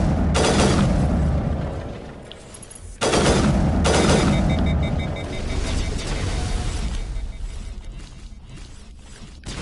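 Sustained automatic weapon fire in the video game Mass Effect, loud and close, with rapid bursts, a short break, then another long volley trailing off into mechanical noise.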